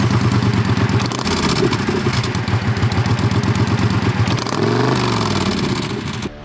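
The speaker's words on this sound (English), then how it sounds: "it's equipped with a Vance & Hines exhaust system, and so this is the crazy exhaust note that it carries" Triumph Thunderbird LT cruiser motorcycle with a Vance & Hines exhaust, loudly rumbling up close in a steady, throbbing idle that shifts pitch briefly before settling again, with no voices.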